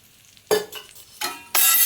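Alu vadi, colocasia leaf rolls, frying in a pan, giving bursts of loud sizzling and crackling as the pieces are stirred and turned, close by and growing louder toward the end.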